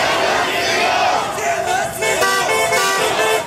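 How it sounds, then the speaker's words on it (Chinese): At a street protest, passing cars honk their horns in support while a large crowd chants and shouts loudly. Sustained horn tones rise through the roar of voices in the second half. "经过的车辆也大按喇叭表达支持"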